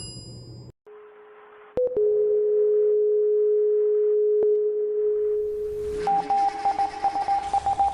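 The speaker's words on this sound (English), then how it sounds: "The Morse code decodes to Miss Radioactive." A steady electronic tone drones for several seconds, then gives way to a quick series of short, evenly keyed Morse code beeps at the end, spelling out "Miss Radioactive."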